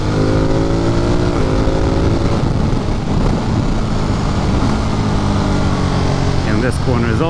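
Motorcycle ridden in touring mode on a twisty country road, continuous engine drone with steady tonal hum close up, a rising rev flurry near the end, and a rider talking over it.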